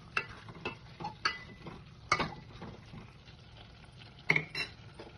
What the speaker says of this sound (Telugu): దీనిలో మనం ఇప్పుడు కొంచెం కారం వేసుకొని మిక్స్ చేసుకోవాలి